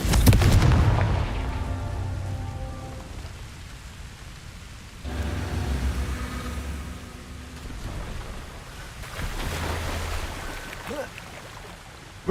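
Blasting-spell explosions from Hogwarts Legacy boom out in three heavy bursts spaced several seconds apart, each a low thundering rumble that trails off into a rain-like hiss.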